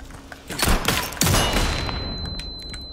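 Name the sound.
gunfire in video game Resident Evil 4 Remake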